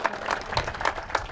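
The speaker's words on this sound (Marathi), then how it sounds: "यांच्यासाठी एकदा सर्वांनी टाळ्या वाजवा" Brief, light applause from a Ram Navami kirtan audience, a handful of distinct claps in uneven rhythm rather than a full ovation, no speech over it.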